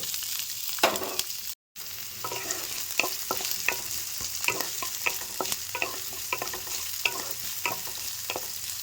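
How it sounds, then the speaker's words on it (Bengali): Chopped onion and panch phoron fry in a pan with a close, steady sizzle, punctuated by regular scraping and stirring strokes and one brief dropout. "পেঁয়াজটাও হালকা করে ভেজে নেবো"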